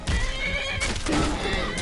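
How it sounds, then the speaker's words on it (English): A horse in Skyrim on PS5 gives a loud whinny amid game combat, a wavering neigh over scattered thumps and clatter, with a second shorter neigh near the end. "Don't kill the horse."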